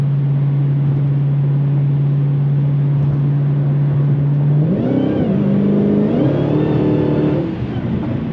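A Dodge Challenger Hellcat Redeye at night, a loud steady engine drone that surges into hard revving with rising and falling pitch as the wheels spin, heard from inside the car with no voices.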